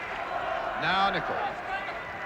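A football crowd at a 1977 Northern Ireland versus England international roars in a brief swell of cheering, faint and distant beneath a commentator's voice.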